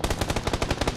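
Rapid automatic gunfire in a video game firefight, a fast steady string of about a dozen sharp loud shots in close succession, with no talking.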